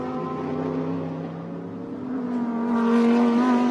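GT race cars, including the Turner BMW, circuit Road America in a GT World Challenge America race, a steady engine drone building louder toward the end as a car nears.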